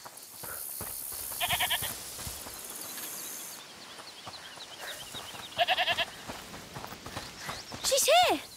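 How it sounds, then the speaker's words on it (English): Quick bursts of hoof clip-clops with goat bleats, fairly faint, alongside sound effects and a voice speaking intermittently in the video game A Plague Tale: Requiem. "is that the goat he talked about?"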